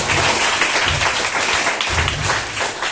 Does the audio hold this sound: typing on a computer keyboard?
no